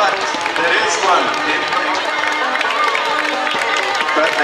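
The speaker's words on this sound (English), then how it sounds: "Come on, give a round of applause." Outdoor crowd at the Wells Moat Race cheering and clapping for the BNI Breakfast Boaters, a steady dense wash of applause and shouts with babble mixed in throughout.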